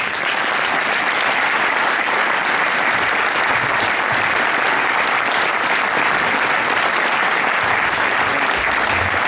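Sustained applause from a large audience at a mayor's final New Year's address in Créon, a dense, steady roar of clapping filling the whole stretch without a break.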